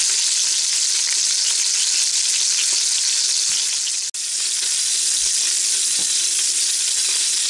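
Steak frying in an Instant Pot, a loud continuous sizzle close by that holds steady the whole time, broken only by one brief dip partway through.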